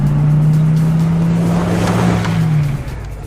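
A shiny car pulls up with a loud, close engine hum that holds steady and then fades as it slows to a stop.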